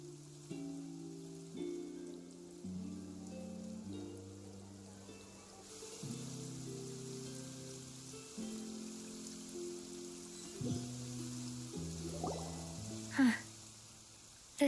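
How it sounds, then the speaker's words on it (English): Steady rain in Genshin Impact's Fontaine region, a soft continuous hiss sitting beneath gentle melodic game music, with a brief louder splash near the end. "It's been raining non-stop for a few days now."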